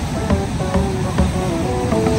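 Strong, rough ocean waves break on a beach in La Union at early dawn, making a steady, loud roar of surf that rolls on without pause.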